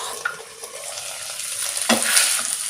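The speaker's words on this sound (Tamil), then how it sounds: "தயிர் சேர்த்து நல்லா கலந்து விட்ட பிறகு லிட் போட்டு அப்படியே வேக விடுவோம்." Quail mixed with curd cooks covered in a pan, giving a soft continuous sizzle and bubbling with a brief stir or lid knock near the end, close and moderately loud.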